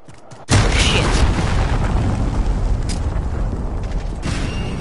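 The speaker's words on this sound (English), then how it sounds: "Enemy cruise missile incoming." A cruise missile explosion in a Call of Duty multiplayer match: a sudden loud blast, then a long, roaring rumble of debris and noise that stays heavy and broad for several seconds.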